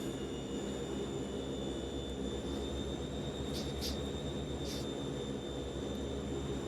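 A Fokker F27 Friendship turboprop airliner taxis in Microsoft Flight Simulator 2020, a steady droning engine rumble with a faint high whine, continuous and unchanging, with a couple of faint clicks.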